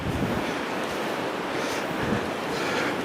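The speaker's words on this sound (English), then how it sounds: "It is a wild day though with the wind." Strong blizzard wind roaring in a continuous, dense rush buffeting the microphone, loud and close, with no pauses or voices.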